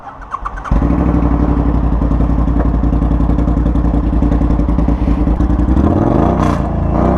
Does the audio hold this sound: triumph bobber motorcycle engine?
yes